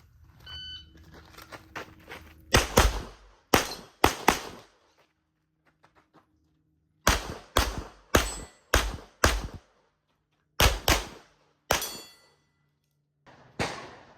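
Pistol gunshots ring out on a shooting practice stage, sharp loud cracks fired in quick bursts of two to four with pauses between strings, plus a beep at the start.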